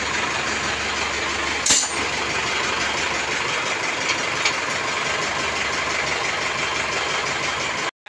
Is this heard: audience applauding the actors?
no